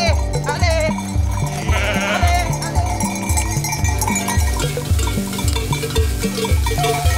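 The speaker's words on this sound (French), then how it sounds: "il y a beaucoup d'agneaux aussi" A flock of sheep and lambs bleating together during a transhumance, dense overlapping calls under a steady rhythmic clanking of bells, with some voices mixed in.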